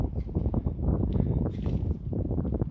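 Wind blows outdoors on a gloomy day in New York and buffets a Huawei P8 Lite phone microphone, producing a steady low rumble with brief fluttering gusts.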